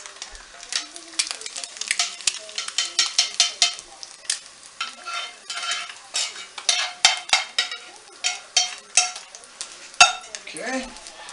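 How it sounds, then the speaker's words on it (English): An egg frying in a home kitchen pan, with steady sizzling under repeated scraping and stirring clatters of a utensil against the pan, close and fairly loud. "Cooking myself an egg."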